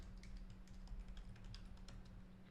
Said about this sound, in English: I'm going to just type in Brendan's Coinbase,